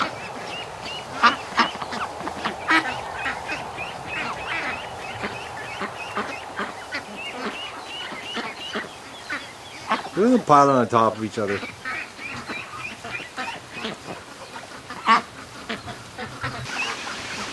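Ducks quack and a big gander honks from a pen, their calls scattered and moderately near, while a person talks over them throughout.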